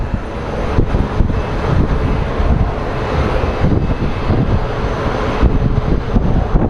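A Pilatus airplane passes overhead at Sky Harbor airport, its engine a loud, steady roar with broadband rumble and wind buffeting that holds for several seconds with no talk.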